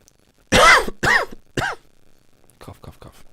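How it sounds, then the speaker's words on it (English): Three loud throat-clearing coughs in quick succession, close and harsh, followed by faint low murmuring in the background. "Cough, cough, cough."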